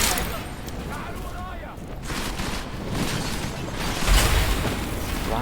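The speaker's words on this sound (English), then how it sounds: "They're actually using grenades." Grenades go off during a Deus Ex: Mankind Divided firefight, producing dense, noisy combat with scattered pops and a heavier low blast toward the end, all at moderate loudness.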